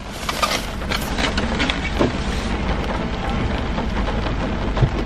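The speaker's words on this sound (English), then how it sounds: "it started like really raining" Heavy rain pours down steadily outside, a dense continuous hiss with scattered drop impacts, loud and close throughout with no talking over it.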